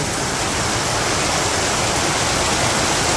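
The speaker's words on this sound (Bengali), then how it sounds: "তো দেখেন বৃষ্টি খেলা, কি বৃষ্টি নামছে" Heavy monsoon rain pours down on a Bangladesh village, a loud, dense, unbroken roar of water close by with no voices.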